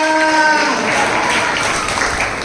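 A church congregation claps loudly and steadily throughout a Hindi sermon by a pastor. The applause is dense and continuous, and sustained musical or sung tones fade out early beneath it.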